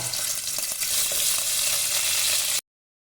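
Small pieces of chopped garlic frying in hot sunflower oil, a steady dense sizzle and crackle close to the pan, continuous and loud for a few seconds before cutting off.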